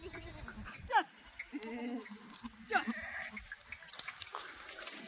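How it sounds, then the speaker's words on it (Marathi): Two loud Kathiyawadi goat bleats, a few seconds apart, with quieter farmyard rustle and faint voices in the background. "हे बघा केवढ्या मोठ्या प्रमाणात शेळ्या"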